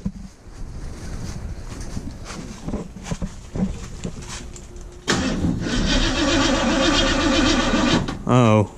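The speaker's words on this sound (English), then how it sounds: "Now, I'll let you crank it up and let it do" 1968 Mercury Cougar engine cranking with a weak battery, catching after several seconds and settling into a loud running rumble, with people talking and wind noise on the microphone.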